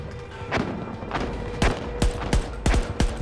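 Close, loud M4 rifle fire in Battlefield 2042, several sharp shots and short bursts with booming tails, no one talking.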